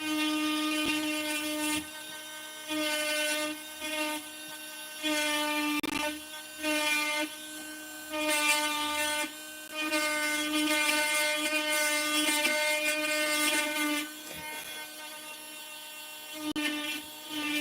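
A rotary tool with burrs carving wood gives a close, high-pitched whine in repeated bursts of a second or two, stopping and starting with short gaps as the pitch shifts slightly under load, with no talking.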